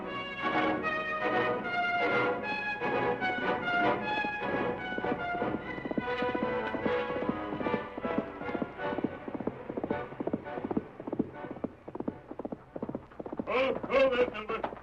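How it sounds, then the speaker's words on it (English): Horse hoofbeats from a Lone Ranger radio drama clop in a quick steady rhythm against a tonal, music-like background, ending in a louder burst. "Called his horse Silver."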